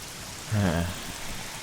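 Steady rain falls in the Arma 3 Dank DayZ game world, a soft, continuous hiss, briefly interrupted by a short voice in the middle.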